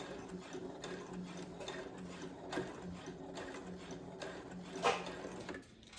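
A Brother CS7000X sewing machine stitches the side seam of a dress with a steady, rapid mechanical whir and ticking needle rhythm, close and fairly quiet. A louder clack near the end is followed by a stop.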